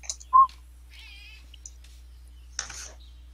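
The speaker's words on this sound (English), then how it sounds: "We'll just pretend those cat noises in the background are Brutus instead." A cat meows in the background: a short sharp mew, then a drawn-out wavering meow and a later rising cry, all faint and isolated against near silence.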